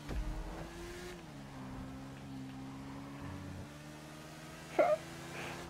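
A GTA V motorcycle engine revs with a steady, droning tone that shifts pitch slightly, then a brief louder burst near the end, with no talk over it.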